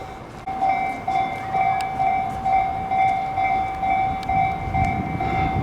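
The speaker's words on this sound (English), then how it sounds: "In fact, there goes the crossing right now." A train rolls past a level crossing in Japan while the crossing's warning bells ring steadily over the loud, continuous rumble of the passing cars.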